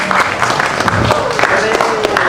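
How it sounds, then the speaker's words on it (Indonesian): An audience claps in a steady, continuous patter at a talk on Hindu family teachings, with no break over the short stretch. "Tepuk tangan lagi sekali."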